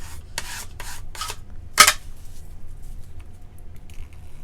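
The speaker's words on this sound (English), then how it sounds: "I'm scraping off a little of the excess glue" Excess glue is scraped off wood veneer in a few short, dry rasping strokes, then one sharper scrape, followed by quiet handling noise.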